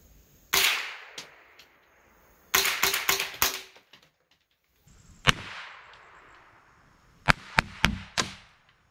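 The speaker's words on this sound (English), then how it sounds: "these are your supersonics with the suppressor, so it should suppress the muzzle blast," Suppressed .22LR supersonic rounds fired from an S&W MP15 rifle, a series of sharp cracks: one shot, a rapid cluster of four, a lone shot, then three quick ones, each with a short decaying tail, fairly close and loud against quiet gaps.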